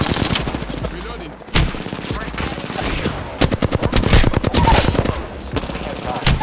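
Rapid automatic gunfire from the battle royale shooter Apex Legends, dense bursts of loud close shots with brief gaps, repeating throughout alongside other distant weapon fire.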